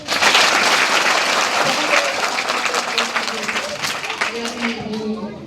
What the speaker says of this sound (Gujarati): તો કોના માટે તાળી પાડવાની?